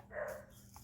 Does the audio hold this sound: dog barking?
yes